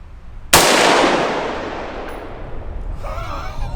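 A single loud AR-15 rifle shot cracks out sharply outdoors, its boom and echo decaying slowly over a few seconds, followed by faint rustling.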